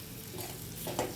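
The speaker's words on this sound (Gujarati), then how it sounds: "બાફેલા બટેટાને એડ કરવાના છે અને સારી રીતે અહીંયા મિક્સ કરી લેવાના છે" Boiled potatoes are stirred with spices in a pan for Gujarati poha bateta: a brief, close scraping stir over a faint sizzle, with a slightly louder scrape near the end.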